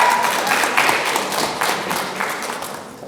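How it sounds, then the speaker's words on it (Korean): An audience at a Korean speech contest in Toronto applauds to welcome a contestant, a brief wash of many hands clapping that fades over about three seconds. "박수로 환영해주세요."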